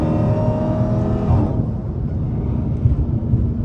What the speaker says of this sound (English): This car sound good as hell.